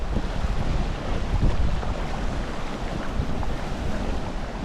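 Strong wind roars over large waves near a boat on a lake crossing by a baywalk, a steady loud buffeting rush with churning water and no speech.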